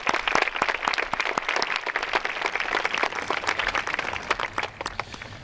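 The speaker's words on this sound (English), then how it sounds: "Let's give them a round of applause." Audience at a middle school promotion ceremony applauds with dense, fairly distant clapping that holds steady before tapering slightly at the end.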